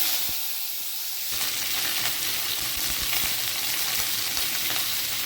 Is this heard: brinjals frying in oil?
yes